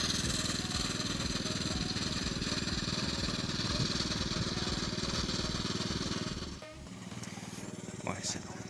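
A Forte 80 MC walk-behind tractor with a rotary mower and iron wheels, mowing alfalfa, chugs loudly and steadily with a rhythmic throb, then its pitch drops and it runs a little quieter near the end.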